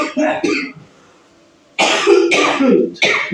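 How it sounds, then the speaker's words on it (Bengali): A woman coughs close by in a few harsh bursts with a short pause between, followed by throat-clearing coughs that come in quick succession. "তোমার কি কাশিটা কমেনি নাকি"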